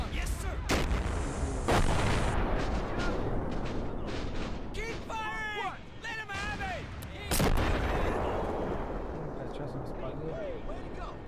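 Repeated artillery blasts and bursts of gunfire from the Cold War mod of the war video game Men of War Assault Squad 2, with several sharp loud impacts, a whistling projectile and a steady battle rumble, while a player talks over them.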